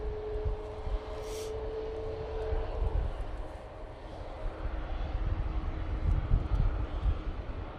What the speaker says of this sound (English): Pegasus just arrived in the 321 Neo.